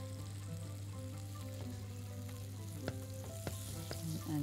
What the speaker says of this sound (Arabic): نقلب كويس